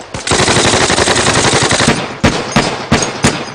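Loud close gunfire during a military training scene follows a command to commence fire: a rapid automatic burst lasting about two seconds, then several separate sharp single shots.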